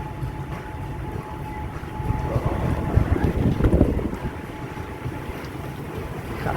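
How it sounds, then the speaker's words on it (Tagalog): Wind roaring and heavy ocean waves around a cargo ship at sea on the Pacific crossing from Tacoma to Korea, a steady broadband rush with a surge of deep churning water swelling in the middle, no voices. "Ito, lakas ng lalaki ng alon."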